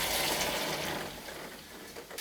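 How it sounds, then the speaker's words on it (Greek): Boiling water poured out of a pot of chickpeas during home cooking, a steady broadband splashing gush that runs continuously and fairly loud, tapering slightly toward the end. "θα χύσουμε αυτό το νερό"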